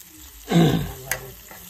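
Onions sizzle and hiss in hot oil in a pan as they are stirred for a black crab curry, a loud close burst of frying that fades into steady quieter crackling.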